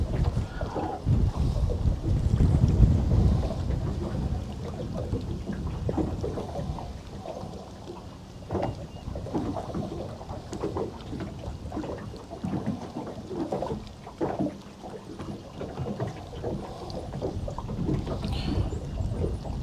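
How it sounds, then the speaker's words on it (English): Strong wind buffets the microphone on a fishing boat out on the water, a loud, steady rumbling roar with gusty swells and no talk. "when the wind's blowing like this is to keep your rod tip low"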